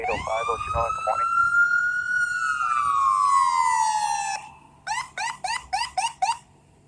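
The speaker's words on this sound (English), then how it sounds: "the ambulance is arriving" An ambulance siren arriving at a trolley and car collision scene on Huntington Ave, a loud rising and falling wail that switches to a rapid yelp, heard close with faint radio chatter underneath.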